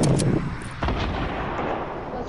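An RPG fires and detonates in a video game, a sharp blast followed by a rumbling explosion and a second heavy burst trailing into dull noise.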